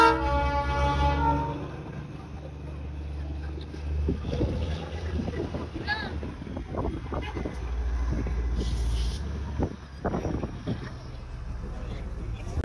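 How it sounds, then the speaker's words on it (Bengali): A Darjeeling toy train passes close by on the mountain railway, with a low rumbling and clattering that holds through the clip, tonal horn-like notes near the start, and people talking over it. "টয় ট্রেন আসছে,"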